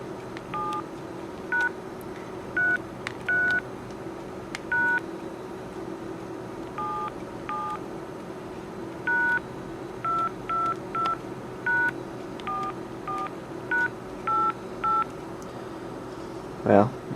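A vintage 1980s–90s cell phone keypad sounds a series of short, clear beep tones spaced irregularly over a steady hum, with voices faintly in the background.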